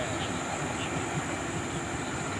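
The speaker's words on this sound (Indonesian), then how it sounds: "Oh, ada kereta ya bang." A train passes on rail tracks near a village at night, heard as a steady, dense rumble and rushing roar that fills the clip at an even level, with a faint voice underneath.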